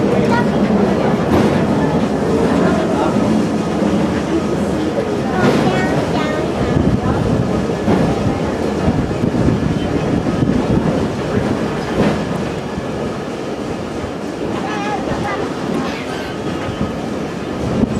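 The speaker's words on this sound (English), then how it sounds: "Going down on a little tram." A small tram runs downhill on a Colorado family trip, giving a loud, continuous rumble of wheels on rails with occasional clacks and squeals throughout, heard close up and without talk.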